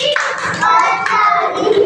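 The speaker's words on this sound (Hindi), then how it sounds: "आओ बजाएं, मिलकर ताली" Children clap their hands in time during a Hindi clapping song, loud steady claps mixed with young voices singing throughout.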